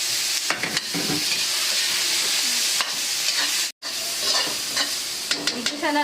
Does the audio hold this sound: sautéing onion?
yes